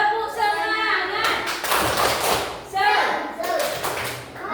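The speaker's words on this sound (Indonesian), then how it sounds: "kita tepuk semangat dulu ya" A class of schoolchildren claps out a rhythmic group chant, with bursts of patterned clapping and shouted voices chanting together over the beat.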